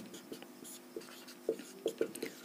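Pen or chalk writes on a physics circuit diagram in a quiet room, with a few short scratchy strokes and taps spread over a couple of seconds, faint and close.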